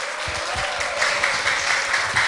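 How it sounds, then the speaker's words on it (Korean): Audience applause welcoming a poet on stage at a Korean poetry talk event, a steady wash of many hands clapping throughout, fairly loud and close. "여러분 큰 박수로 환영해 주시기 바랍니다"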